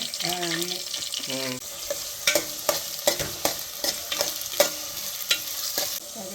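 Onions and green chillies frying in hot oil: close crackling sizzle with a run of sharp spatula scrapes and knocks against the pan, preceded by a brief burst of speech.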